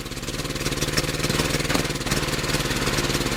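A small engine fed by wood gas from a homemade gas producer runs steadily nearby, a rapid chugging idle with slight rises in revs, loud and free of talk.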